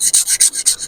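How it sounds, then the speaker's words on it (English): Photo-etch metal parts are sanded with the finer grits of a four-grit hobby sanding stick, giving a series of quick, close, scratchy rasping strokes, roughly five back-and-forth passes, with nothing else heard. "using the two finer sections of a 4-grit sanding stick"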